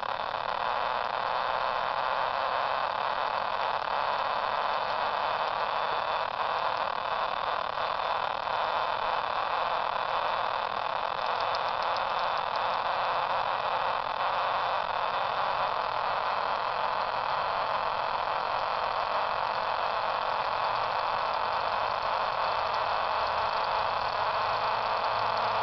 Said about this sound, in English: Makes a lot of static noise.